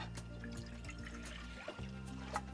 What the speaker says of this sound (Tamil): இப்போ தண்ணி நல்லாவே கொதிக்க ஆரம்பிச்சிருச்சுங்க